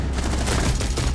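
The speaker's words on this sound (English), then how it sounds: "Oh, shot him with the BMR." Rapid BMR gunfire in the Rainbow Six Siege video game, a dense, loud burst of closely spaced shots that fills the whole moment without pause.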